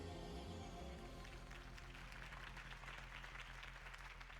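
A crowd claps and cheers in a steady, dense wash that swells after a moment, sustained throughout at moderate loudness, in the video game Batman: The Telltale Series.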